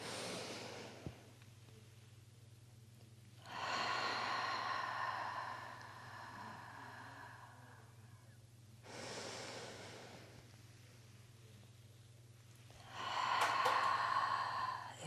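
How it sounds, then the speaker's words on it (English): Slow, deep breathing during a gentle stretching exercise, with two long breaths several seconds apart, each a close, airy rush of inhale and exhale over a faint low hum and separated by quiet pauses, with no talking. "Inhale, arms up. Exhale, other side."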